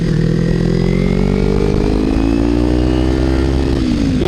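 A Kawasaki Ninja 300 motorcycle fitted with a Screaming Demon exhaust, baffle removed, revs loud and close, its raspy engine note holding steady and then rising in pitch near the end, with no talk over it.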